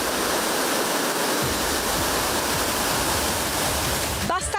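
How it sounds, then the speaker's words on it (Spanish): Roaring Rímac river in flood, a dense, continuous broadband rush of churning water that stays loud and steady throughout, with a brief faint voice-like trace near the end. "El río ruge y hace temblar a los vecinos."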